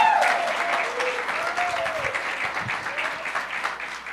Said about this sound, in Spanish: démosle un aplauso al Señor por la vida de Luz Dari